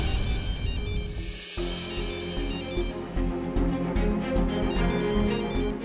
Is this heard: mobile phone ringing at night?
yes